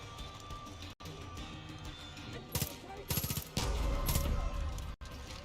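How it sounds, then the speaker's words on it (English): Gunfire in Far Cry 5 crackles through in-game ambience, with bursts of sharp rapid shots and a loud sustained blast partway through. "ooh, that was a loud gunshot"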